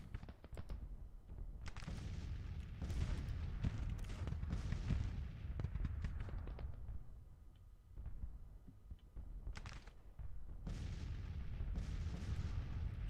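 Artillery fire in the Civil War strategy game Grand Tactician, a steady series of dull, distant booms and cracks rolling over a continuous low rumble, in irregular clusters with brief lulls between them.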